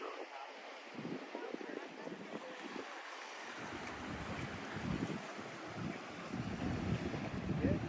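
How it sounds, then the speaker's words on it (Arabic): Atlantic Ocean waves and steady wind on the rocky shore by the lighthouse at Peggy's Cove, Nova Scotia, a continuous rushing roar with surging swells and microphone wind buffeting throughout. "طبعا الاتلانتيك اوشن في الخلفية"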